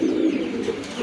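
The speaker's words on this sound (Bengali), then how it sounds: "অনেক বড় সাইজের কবুতর" A large pigeon coos close by in a low, soft, throaty roll, one sustained murmuring call with a slight swell partway through.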